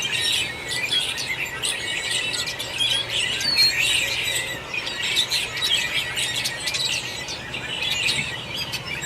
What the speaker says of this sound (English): It's mating season for that type of bird